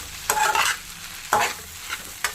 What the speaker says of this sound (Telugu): నీరు కొంచెం స్మెల్ పోయే వరకు వేయించుకోండి